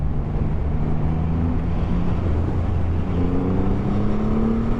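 A red metallic motorcycle on a test ride accelerates with a steady, loud engine drone, its pitch climbing gradually as it pulls away, heard up close under wind noise.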